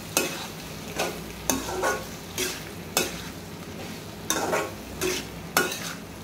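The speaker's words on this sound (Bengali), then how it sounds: "এখন কষিয়ে নেব।" Taro and spices being stir-fried in a pan while preparing pangas fish with taro, with a steady sizzle broken by repeated sharp scraping strokes of the spoon at an even rhythm, close and fairly loud.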